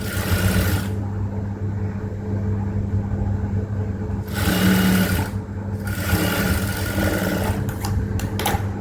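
A sewing machine runs steadily, stitching a folded blouse hem in a close, loud mechanical whir, with a few short pauses and shifts in pace.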